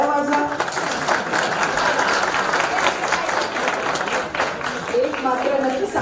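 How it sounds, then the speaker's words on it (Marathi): An audience claps at a school alumni reunion gathering in a hall, a dense continuous patter of applause throughout, with voices mixed in. "टाळ्या वाजवा."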